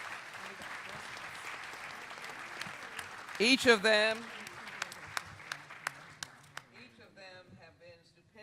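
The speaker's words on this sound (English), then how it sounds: "Ladies and gentlemen, give this outstanding panel a wonderful round of applause." Applause for a panel at a procurement fair rises under an announcer's voice, a brief burst of speech cutting through, then scattered individual claps continue and thin out while more talk resumes near the end.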